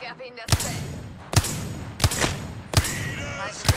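Gunfire in Apex Legends: five sharp, loud shots spaced roughly a second apart, each with a brief ringing tail, and a voice talking faintly between them.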